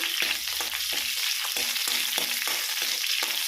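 Peanuts frying in a pan of oil and puffing up, a dense continuous sizzle close by with rhythmic stirring scrapes, no talking.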